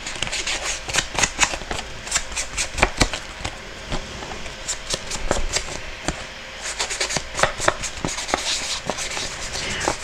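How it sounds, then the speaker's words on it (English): An ink sponge is dabbed around the edges of a sheet of paper for a weathered stamped-background craft, giving a close run of quick, irregular soft taps and rustles with short pauses between bursts. "I'm just going to kind of sponge around"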